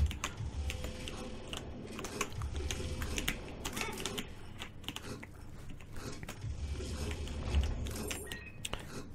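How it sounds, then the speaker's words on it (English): Fingers typing on a mechanical computer keyboard, a dense, continuous run of close clicky keystrokes with irregular rhythm, faint and unaccompanied by speech. "the keyboard that I use is a mechanical keyboard"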